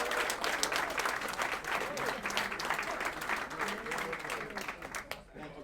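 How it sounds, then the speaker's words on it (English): An audience at a Rotary club meeting applauds, with steady, moderately dense clapping from a roomful of people for several seconds before it begins to taper off. "Let's give a round of applause for Dr."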